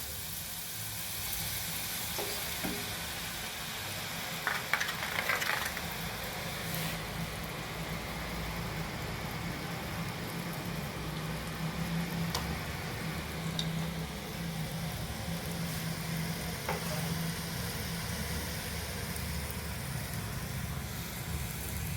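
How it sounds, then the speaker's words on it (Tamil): Boondi batter poured bit by bit into hot oil for Diwali kara boondi, a steady, soft, continuous frying hiss with faint bubbling and a few light clinks, heard alone at a moderate distance. "இப்போ மாவை கொஞ்சம் கொஞ்சமாக இதில் ஊற்றி எடுப்போம்"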